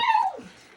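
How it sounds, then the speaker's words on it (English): Pet dog whimpering indoors, a single short falling whine lasting under half a second, close and fairly faint, fading into quiet. "That is my dog. She has to say hello during a video."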